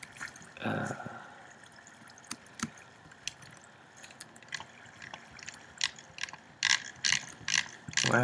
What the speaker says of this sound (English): There's a redstone contraption.